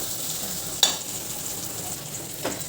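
Fish-curry ingredients frying in a pan, an even close sizzling hiss broken by two short stirring scrapes.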